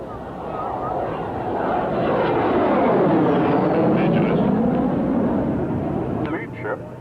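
Propeller aeroplane at the Leicester air display passing overhead, a steady loud engine drone swelling and fading with Doppler sweep, outdoors and alone.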